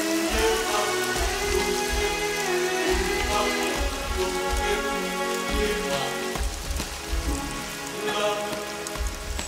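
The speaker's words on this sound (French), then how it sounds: "il pleut" Steady rain falls in a forest, drumming on leaves and other surfaces in a constant, even wash of drops that continues throughout with no voices.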